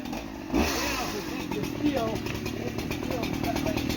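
A Husqvarna 3120XP chainsaw runs steadily at close range, a continuous buzzing engine drone with slight surges, while people talk over it.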